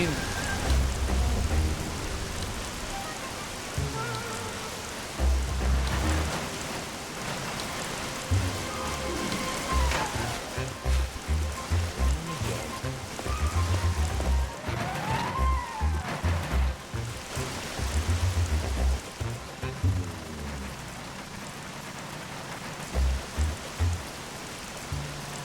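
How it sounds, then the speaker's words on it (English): Steady rain in the Bee Movie Game patters across the whole stretch, with soft low thumps and rumbles pulsing underneath; no voices, just a continuous, fairly close downpour. "Oh, no, not the rain."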